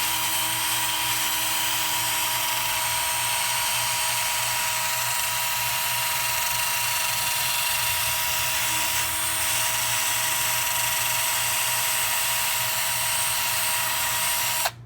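800 grit sanding of the coating on an aluminium valve cover from a 2ZZ-GE Toyota Celica or Lotus engine makes a steady, unbroken high-pitched machine whine with a constant hiss, close and loud throughout.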